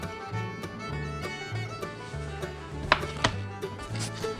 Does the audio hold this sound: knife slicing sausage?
yes